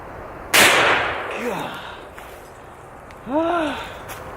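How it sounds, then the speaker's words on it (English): A single sharp gunshot fired at a solid block of lead, a loud broadband crack near the start followed by a short decaying echo, with faint breathy vocal sounds afterward. "I flinch every time I shoot this thing."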